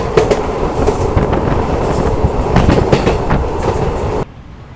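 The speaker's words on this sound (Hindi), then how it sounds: "लगभग 15 मिनट यमुना ब्रिज के ऊपर ही रुकने के बाद अब हमारी ट्रेन फिर चली है" Shalimar Express train rolling again across the Yamuna rail-cum-road bridge, heard from on board: a loud, steady rumble with rhythmic clickety-clack of wheels on track, cutting off abruptly near the end.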